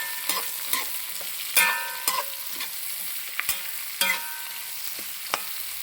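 Chopped medium onions frying in a pan for a vegetable kurma, with a steady sizzle broken by about a dozen scraping, clinking stirs of a spoon against the pan, close and fairly loud.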